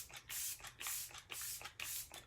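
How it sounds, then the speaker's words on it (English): Refreshing makeup setting spray is pumped onto a face in four quick, hissing mists at an even rhythm, soft and very close, with no talking. "we're gonna seal it all together with some setting spray"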